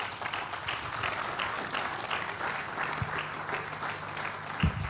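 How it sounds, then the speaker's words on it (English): Audience applause for a speaker at a career development program, moderately faint and steady throughout, with a few sharper claps near the end. "A warm applause for Mr. Ologunye."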